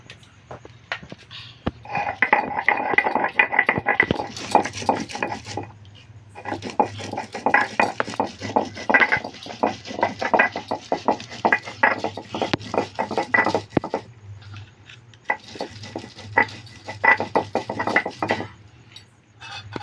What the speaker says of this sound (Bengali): এবার আমি মিহি করে বেটে নেব এভাবে অল্প অল্প করে বাটবো